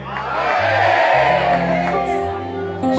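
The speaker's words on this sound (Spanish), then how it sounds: "Todo el que le crea al Señor, grite un grito de amén." A congregation at an evangelistic church service in San Miguel, El Salvador, shouts amen together in a loud, swelling crowd roar with whoops, over held musical notes.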